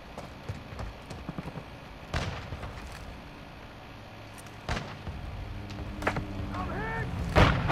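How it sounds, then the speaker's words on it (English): A friendly mortar strike in Modern Warfare II multiplayer lands as several separate booming impacts spaced a few seconds apart, moderately loud over a low background of battlefield noise. "Friendly mortar strike on the way."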